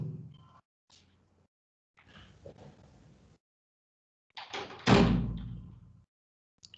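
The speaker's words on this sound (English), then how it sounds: "close the door" A door fitted with an IoT door sensor swings shut in a classroom or lab, with a few soft knocks and shuffles first, then one loud, close thud as it closes, followed by a brief rattle.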